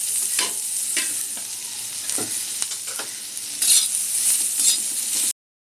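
Onion sizzling in hot oil for a Konkani cashew curry, a steady close-up fry with scraping stirs and spatula knocks breaking through, brighter bursts of crackle near the end, no voices.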